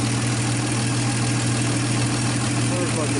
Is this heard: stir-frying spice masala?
no